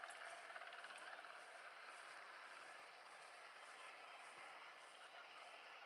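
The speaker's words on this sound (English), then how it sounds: "That's their helicopter coming in there in the distance." A helicopter approaches in the distance, a faint, steady broadband whir with a soft rotor pulse that stays low and continuous throughout.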